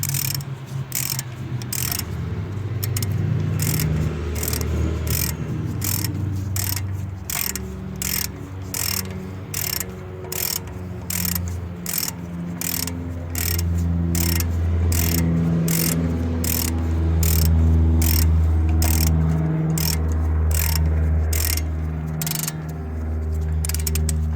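Ratchet tightening the caliper bracket bolt on a GMC Acadia-type SUV during a CV axle job, a long run of rapid, loud, close clicks that go on and on steadily with no pauses.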